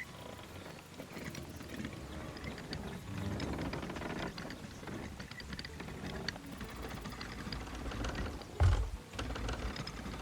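A ship's steering wheel turns aboard a pirate vessel in Sea of Thieves, giving off a continuous ratcheting, clicking mechanism rattle that runs through the scene over background game sound and music.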